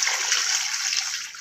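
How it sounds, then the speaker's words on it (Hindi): Water splashes and pours into a pot of beef with vinegar being prepared for a roast, a bright continuous sloshing stream heard close up for a brief moment. "अब हम इसमें पानी डाल देंगे।"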